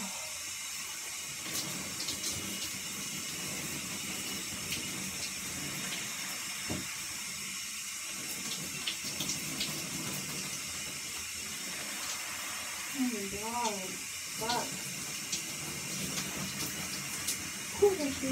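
Shower water running steadily in a bathroom, a constant close hiss of spray throughout, with brief voice sounds near the end.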